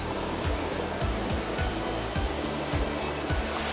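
A small waterfall in a forested mountain valley on Cheonseongsan in Yangsan, South Korea, rushing as a steady, dense roar of falling water close by, with no voices over it.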